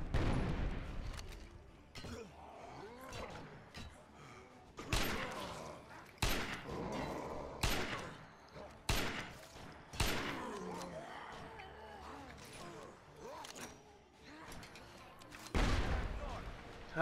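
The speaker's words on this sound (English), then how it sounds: "grenades are such a lifesaver" Several heavy grenade-like blasts in State of Decay Lifeline, each a sharp loud boom fading out, spaced irregularly every second or two with quieter stretches and talk between them.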